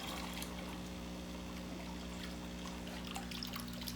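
A garden hose trickles water into a bucket used for fish tank water changes, a soft continuous flow under a steady low hum, with no talking.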